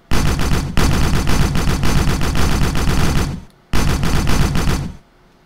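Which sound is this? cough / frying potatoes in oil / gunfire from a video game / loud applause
gunfire from a video game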